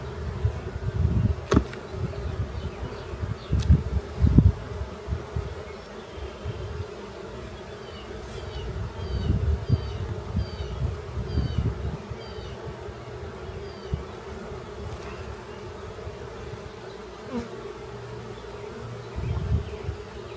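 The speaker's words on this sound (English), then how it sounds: "We got bees coming over to this frame from the other hive." Honey bees buzz steadily around open hives during a full apiary inspection, a continuous close drone with occasional thumps and handling noises.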